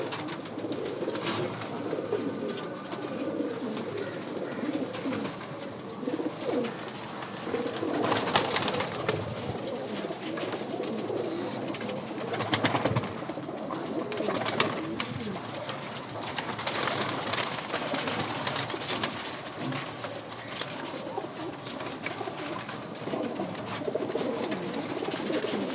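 Bajra pigeons coo softly and repeatedly in a calm setting, with low throaty calls overlapping throughout and faint background noise.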